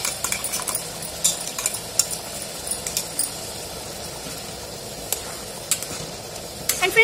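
Odia-style fish curry with mustard paste and tomato sizzles in a pan while a utensil stirs and scrapes with steady clinks, close and moderately loud with no talking.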